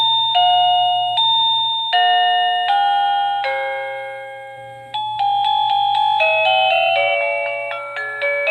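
A Toplus wireless doorbell chime plays a series of different melodies, bright clear ding-dong tones ringing and decaying one after another, loud and close with no talking.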